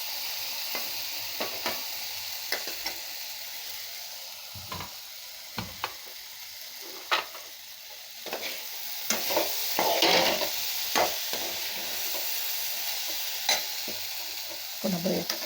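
Okra (lady finger) fries in a pan for vendakkai poriyal, a steady sizzle broken by repeated scraping stirs, some sharper clinks of the spatula, and no voices.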